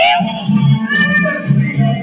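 A child imitates a cat, producing short, rising and falling meow-like vocal sounds in quick succession. The voice is close and loud in a busy room at a birthday celebration.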